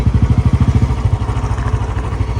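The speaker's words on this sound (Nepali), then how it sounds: "म चाहिँ बाइक लिएर जान्छु" A motorcycle engine putters close by with a quick, even thumping beat, pulling away as the pulses blur into a steadier drone.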